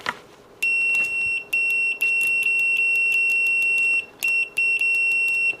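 A BSIDE S40 multimeter in continuity mode gives sharp, high-pitched beeps in several bursts, some brief and some held for over a second, loud and close over faint background hiss.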